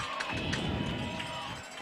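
A crowd cheers at a high school varsity football game between the Manitowoc-Lincoln Ships and the Mona Shores Sailors. The roar is a steady, fairly distant wash of many voices across the stands.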